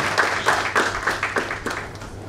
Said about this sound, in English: I will invite my colleagues here to give him a clap for the tremendous support